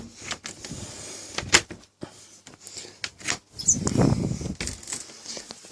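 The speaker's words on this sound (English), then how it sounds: "shut that door." A door on a custom-built water dragon vivarium is handled and shut, with several close knocks, scrapes and a short sliding rumble amid light handling noise.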